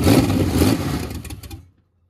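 A carbureted 1986 Chevy 4.3 V6 rumbles and revs roughly for about a second and a half, then cuts out abruptly into silence; loud and close, with no talking.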